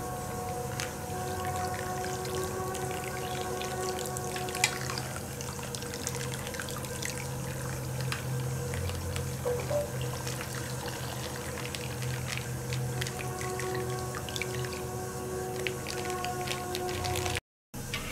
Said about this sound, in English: after that we will put the milk.